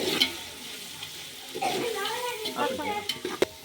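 Chicken biryani with mint is mixed in a pot: close, busy stirring scrapes over a soft sizzle, with a brief voice in the background.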